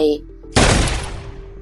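A single loud, sharp rifle shot with a sudden blast that rings out and slowly decays, following a brief low hum.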